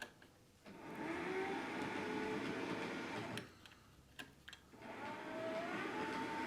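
A model locomotive pulling rolling stock runs along its track with a steady, quiet rolling whir, a faint rising whine and scattered small clicks from the rails.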